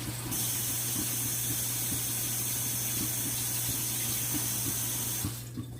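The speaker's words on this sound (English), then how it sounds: "get my hands washed" Tap water runs steadily into a sink while hands are washed during raisin cake baking, a constant close splashing hiss that starts abruptly and cuts off near the end.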